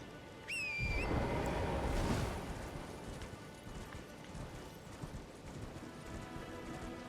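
A horse's hooves clip-clop steadily at a moderate distance in the video game Elden Ring, over a busy ambient background, with a brief high chirping tone near the start.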